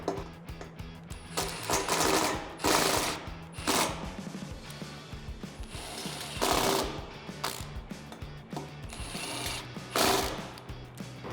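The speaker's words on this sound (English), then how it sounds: "So for the button head bolts on the side for the clamps into the mounts, I'm going to use a 5mm Allen key." A 5mm Allen key turns button head bolts on roof rack clamps and mounts on a Jeep Wrangler JL 4-Door, making close bursts of fast metallic ratcheting and clicking in several separate rounds, with short pauses between them.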